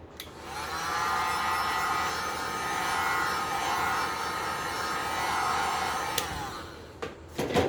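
A hair dryer blows steadily on resin in the middle of an acrylic pour for about six seconds, a loud even whoosh that cuts off abruptly, followed by a few faint handling clicks.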